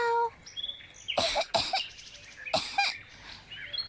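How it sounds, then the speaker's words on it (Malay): A child coughs in a cartoon: a few harsh, close coughs in quick pairs, separated by short pauses, against quiet background sound. "Mak dengar makin lama makin teruk batuk tu"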